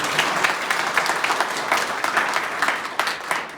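Seminar guests at an AWPL closing event in Gairsain, Uttarakhand, break into loud, sustained applause, a dense wash of many hands clapping from start to finish with no voices over it.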